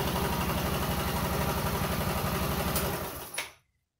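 A vehicle engine running on a double battery setup idles with a steady, even throb for about three seconds, then cuts out abruptly into silence.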